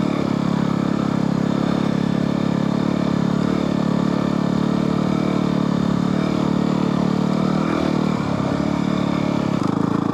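A Yamaha WR250R dual-sport motorcycle runs on a sandy Pine Barrens trail, its engine a steady, loud, dense drone with rattling clatter throughout and a brief shift in tone near the end, with no talking.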